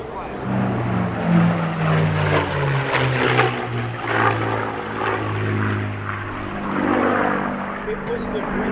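Propeller engine of a P-51D Mustang flying at an air show, a droning, shifting aircraft tone that carries on under a commentator's continuous talk.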